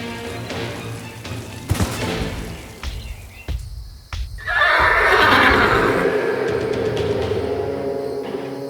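A horse lets out a loud, close whinny that rises sharply and trails off over a few seconds, following a stretch of thuds and rustling scene noise.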